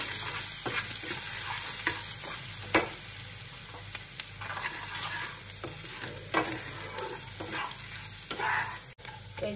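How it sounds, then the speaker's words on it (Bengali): Garlic sizzles in hot oil in a pan while a spoon stirs it. The scrapes and clinks come at an irregular rhythm over a steady close frying hiss. "রসুনটা একটু লাল করে ভাজবো"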